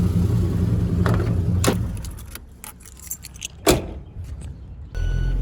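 A car engine idles with a low rumble, then stops as the key turns, followed by jangling keys and a couple of sharp clicks; the rumble returns briefly at the end.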